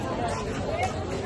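Crowd of people thronging a river ghat on Dev Deepawali night, a continuous close murmur of overlapping voices and chatter with no single speaker standing out.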